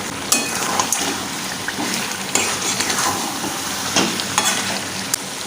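Fried onions tossed into coconut chicken cooking in a pan give a steady close sizzle and fry, with scattered clinks and scrapes of a utensil stirring against the pan, no voices.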